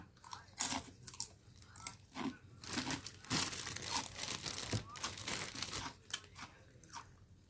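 Someone chews a crisp raw vegetable up close, with repeated loud crunches and bites in an uneven rhythm and almost no talking.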